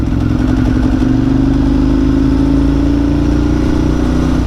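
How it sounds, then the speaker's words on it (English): A Ford Mustang driving past with a loud, low engine rumble that holds steady throughout and swells slightly as it passes nearby. "oh, Mustang."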